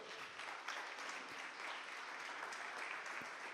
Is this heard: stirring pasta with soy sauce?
no